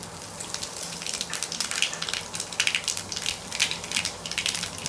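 Cumin seeds, added after mustard seeds, sizzle in hot oil while tempering for a tamarind curry. The crackle is dense and popping, with uneven bursts close up.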